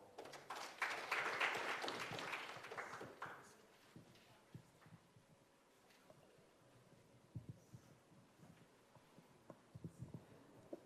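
Conference hall applause at the 6th Annual Africa Conference on Social Entrepreneurship swells for a few seconds, then dies away into a quiet room with occasional faint knocks and shuffles.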